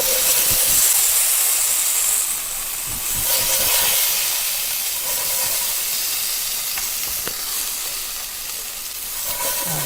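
Onions hitting a pan of cooking potatoes, a loud continuous sizzling hiss that swells and eases over several seconds with no talking.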